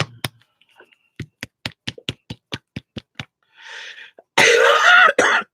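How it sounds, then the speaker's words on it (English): A person coughs sharply during an acrylic painting session, one close, loud burst of coughing near the end after a series of quick tapping clicks and a brief rustle. "Sorry about the cough."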